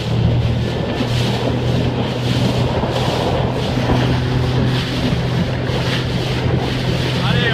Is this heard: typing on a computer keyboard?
no